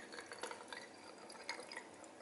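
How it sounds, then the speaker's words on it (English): A cocktail is poured carefully into a Christmas ornament, a faint, brief trickle of liquid with small drips and glassy splashes, close and quiet. "And now you are just going to pour the drink into here very carefully."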